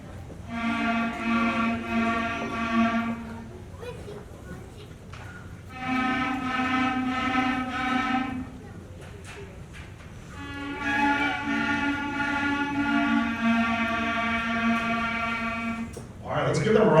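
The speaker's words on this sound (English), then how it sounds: "now let's perform a little song, shall we? This is number 16," A 5th grade school band plays song number 16 in quarter notes at a demonstration concert, with three sustained ensemble phrases of held chords separated by brief pauses.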